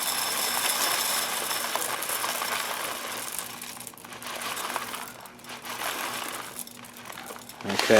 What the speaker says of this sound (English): I'm going to just pour in seeds until I get to about 200.